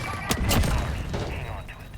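A Semtex grenade is thrown and bursts in Call of Duty Modern Warfare, a couple of sharp close blasts followed by a rumbling tail, with gunfire mixed in.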